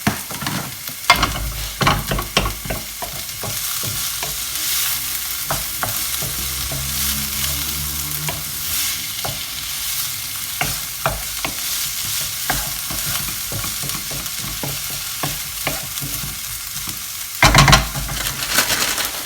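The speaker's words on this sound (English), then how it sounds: "You need to occasionally stir this." Spiced okra curry sizzles in a pan under repeated stirring, with sharp scrapes and clicks of the utensil against the metal over a steady frying hiss. No one speaks.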